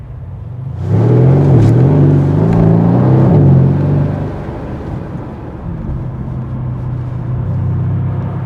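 A 2017 Mercedes-AMG C63 engine with a new exhaust growls and revs through a few gear changes, loud and close, then settles to a lower steady rumble as the car drives on.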